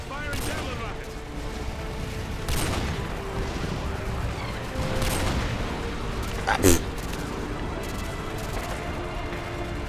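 Bursts of gunfire in the Call of Duty: Modern Warfare 2 campaign crack out in scattered volleys over a continuous battlefield din, with one sharp nearby shot standing out toward the end.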